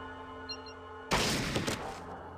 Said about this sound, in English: Shoot him in the head.